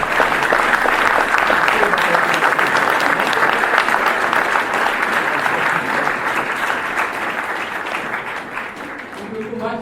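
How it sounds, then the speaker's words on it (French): Sustained applause from a large crowd at a political rally, dense and steady clapping throughout, easing slightly toward the end. "Applaudissez-vous, applaudissez Révolution permanente pour tout ce travail que vous avez mené à nos côtés."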